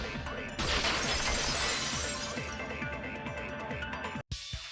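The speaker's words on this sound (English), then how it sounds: "If it wasn't the window, then what broke to make that sound? A vase." A vase shatters in the video game Danganronpa 2, a sudden loud crash of breaking ceramic followed by scattering, tinkling fragments that trail off before a brief cut to silence.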